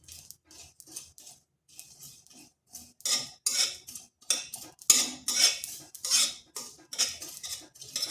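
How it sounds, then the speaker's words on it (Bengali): Poppy seeds dry-roasting in a dry wok while a metal spoon scrapes and clinks against the pan in quick, irregular strokes that grow louder and busier. "এরপর পোস্তটা একটু ভেজে নেব"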